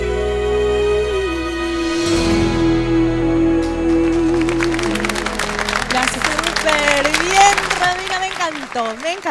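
A studio audience applauds after a singing performance on a Spanish-language television show, the clapping building as the music fades and continuing loudly, with voices mixed in.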